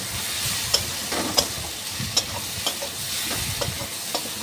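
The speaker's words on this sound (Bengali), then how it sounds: "মশলাটা ভালো করে নেড়ে নেব।" Spices with chili powder fry in a pan for a chicken curry, stirred with a spatula: a steady sizzle carries repeated scraping strokes, some with small metallic clicks.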